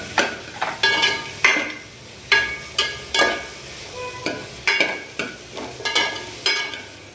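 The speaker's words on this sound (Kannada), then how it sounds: "ಇವೆರಡು ಸ್ವಲ್ಪ ಚೆನ್ನಾಗಿ ಫ್ರೈ ಮಾಡ್ಕೋಬೇಕು" Chickpeas and coconut frying in a pan for fish sambar, with a spoon scraping and clinking against the pan in frequent sharp strokes over a soft sizzle, close and loud.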